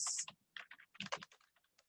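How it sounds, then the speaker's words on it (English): Computer keyboard typing in an online event setting, a quick burst of key clicks in an uneven rhythm, close and fairly quiet, with no voices. "my typing skills are questionable right now"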